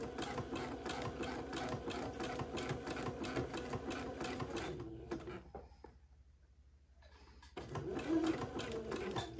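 A sewing machine zigzag-stitches a folded slash onto entredot on fine batiste, running in a fast steady chatter that pauses briefly near the end before starting up again.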